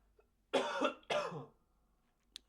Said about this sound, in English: I've been coughing a lot too